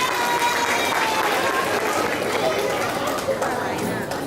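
Audience at a Balavihar graduation ceremony clapping in a dense, continuous wash of applause mixed with crowd chatter and murmuring voices throughout.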